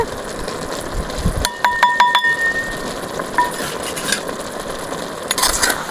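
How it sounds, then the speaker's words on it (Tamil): Village mushrooms sautéing in a pan with chicken 65 masala and chilli powder: a steady close sizzle with a quick run of spoon-on-metal clinks partway through, then continued frying. "நல்லா வதக்கலாம் பாருங்கள் இப்போ காளான் வெந்துட்டுருக்கு"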